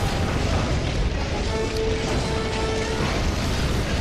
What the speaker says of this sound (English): I've got rockets and things coming down upon me.